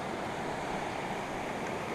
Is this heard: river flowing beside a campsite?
yes